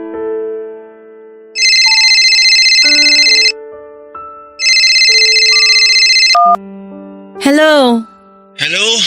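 An incoming-call ringtone on a phone, loud and melodic, plays in repeated bursts of tonal chimes separated by pauses, with brief warbling electronic tones near the end and no voices.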